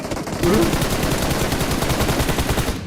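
Rapid automatic M4 rifle fire in the mobile shooter BGMI, a loud, dense run of evenly spaced shots lasting nearly three seconds with a short voice exclamation near the start.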